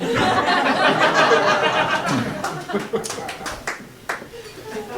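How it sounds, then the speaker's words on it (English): Comedy club audience at a stand-up set, a brief ripple of scattered clapping and chuckles from the crowd that soon thins into a few separate claps while laughter lingers. "I almost had an applause break."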